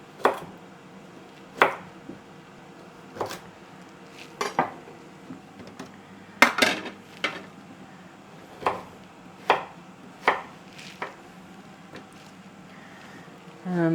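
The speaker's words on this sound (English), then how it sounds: "I'll just cut that into some sticks" A knife chops a carrot into sticks on a cutting board, making sharp, close, evenly spaced knocks roughly every second or so across the whole stretch, with a faint room hum underneath.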